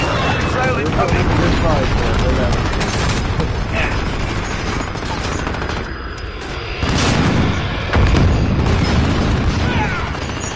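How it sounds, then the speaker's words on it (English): Enemy missile strike explosions in a video game, dense loud booms and gunfire bursts over a continuous battle din, with heavier blasts near the end; voices talk over the action. "Enemy missile incoming."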